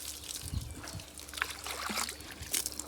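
Water is poured into a pot set on the stove, making a steady trickling, splashing stream close by. It runs continuously for a few seconds with no speech over it.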